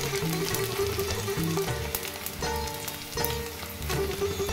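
Gond, an edible gum, frying in ghee over a low flame, giving a steady bubbling sizzle that stays fairly loud throughout, with a few louder crackles.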